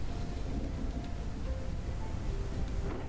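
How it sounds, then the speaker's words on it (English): Steady rain with a low rumbling thunder bed in the video game Poppet Quest, a continuous soft wash of noise with no talk over it. "Now the rain came back."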